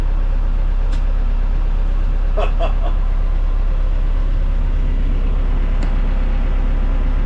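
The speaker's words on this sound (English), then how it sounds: "got the tractor running. Just wanted to make sure it's at full power." A tractor engine runs steadily at high power, a constant loud low drone close by, with a few faint clicks over it.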